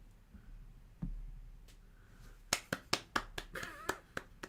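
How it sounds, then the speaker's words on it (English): A small group claps in a room: a faint early tap, then a burst of sharp, uneven hand claps close to the mic over a few seconds. "And then everybody clapped."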